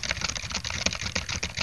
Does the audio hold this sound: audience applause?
no